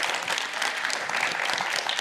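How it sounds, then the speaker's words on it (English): A conference audience claps for the panelists, giving a full, steady round of applause for two seconds with no voices over it. "Please give a round of applause to our panelists today."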